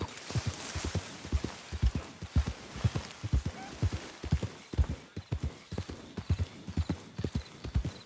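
A horse gallops in Red Dead Redemption 2 with a fast, rhythmic clip-clop of hooves that runs without a break for several seconds. A faint rumble of wind and ambience sits underneath.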